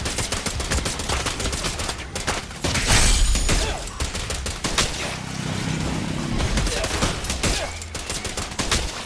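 Rapid gunfire in the video game Zenless Zone Zero, dense volleys of shots and impacts that stay loud almost without pause, with a heavier booming blast partway through.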